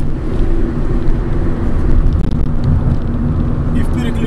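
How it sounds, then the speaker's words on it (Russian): A 2010 Ford Focus 1.4 with manual gearbox driven on the road, a steady low engine drone and tyre rumble heard from inside the cabin, with someone talking over it. "сегодня едем на Форде Фокусе"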